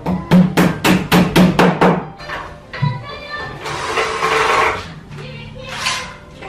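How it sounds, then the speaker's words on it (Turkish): Back panels are nailed onto a wardrobe in a roomy space, a quick run of about eight sharp hammer blows at close range, then a few scattered knocks under voices. "Şimdi burada alan genişken hemen böyle arkalıklarını çakıyorlar."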